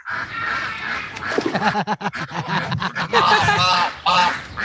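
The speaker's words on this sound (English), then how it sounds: "And don't forget the duck." A duck gives a rapid run of loud, nasal quacks, close and continuous for several seconds.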